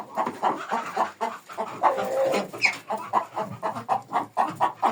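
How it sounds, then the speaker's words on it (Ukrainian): Hens clucking in a farmyard during an evening round of the homestead, several close birds giving busy, uneven clucks and squawks, with a brief higher call in the middle. "Яка курочка гарненька."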